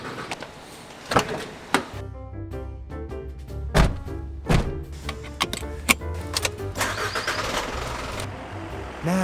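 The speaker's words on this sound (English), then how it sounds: "31 garbage trucks all leaving all at once" A fleet of 31 Japanese garbage trucks starting up and pulling out together at the start of the workday, with low engine rumble, scattered thumps and door clunks, and clattering mechanical noise building toward a steady drone.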